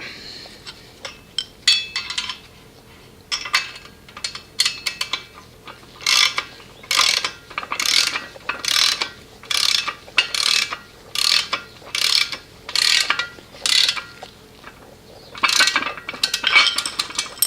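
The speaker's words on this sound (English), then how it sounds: "And then we'll be taking our nylock nut and tightening that up." A ratchet wrench tightens a nylock nut while assembling a Jungle Jims mower lift, giving repeated bursts of sharp metallic pawl clicks in a steady back-and-forth rhythm, close and fairly loud, with no talking.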